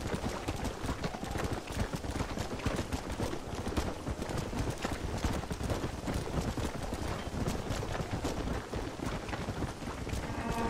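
Galloping horse hooves in the video game Red Dead Redemption, a rapid continuous clatter of hoofbeats mixed with rushing wind and game ambience, steady and dense throughout.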